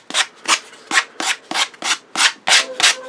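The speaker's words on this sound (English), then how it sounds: "round off the sharp corners" Sanding wood by hand to round off sharp corners, heard as about nine steady rhythmic rubbing strokes, close and fairly loud, with no other sound.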